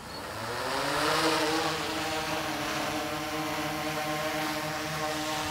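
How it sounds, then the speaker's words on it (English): A DJI Inspire 1 drone's motors spool up and lift it off, a smooth rising whine that climbs and then holds as a steady, loud buzzing hum with no talking. "That will spool the motors up, and I'll give it a gentle throttle to get it up in the air"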